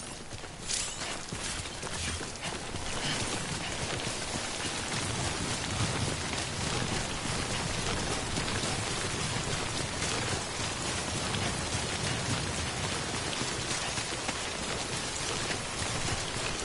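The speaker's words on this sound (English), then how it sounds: "Don't stay out in the rain any longer than you have to" Steady timefall rain pours throughout in the video game Death Stranding, a dense, even wash of falling water with heavy clip-clop-like patter mixed in, holding constant from start to finish.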